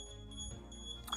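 An Elegoo Mercury resin curing station sounds a safety beep because its lid is removed, a faint steady electronic tone with a brief brighter chirp at the end, quiet and alone.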